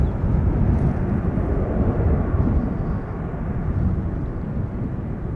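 Jet airliner departing Schiphol Airport, Amsterdam, heard as a steady low engine roar that holds strong and eases slightly toward the end, with no voices.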